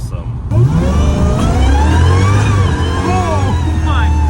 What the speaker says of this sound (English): You really get the full supercharged whine, which is just awesome